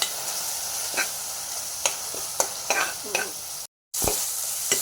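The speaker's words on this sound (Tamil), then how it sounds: "மிளகாத்தூள், சாம்பார் தூள், மஞ்சத்தூள் வச்சு ஒரு 5 நிமிஷம் நல்லா வதக்கிக்கோங்க." Chili, sambar and turmeric powders sauté with tomatoes in a pan, a continuous sizzle broken by repeated spoon scrapes and stirs, close by, with a brief dropout near the end.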